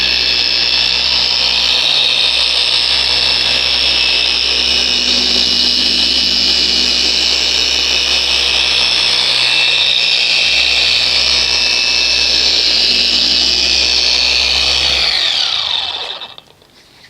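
A rotary polisher buffs swirls and scratches out of black paint on a Honda Accord under light pressure, a loud, steady whirring drone that runs without a break for about fifteen seconds and then winds down to a stop.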